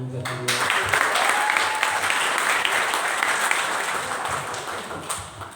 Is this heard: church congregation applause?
yes